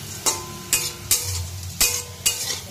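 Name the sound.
potatoes frying in a pan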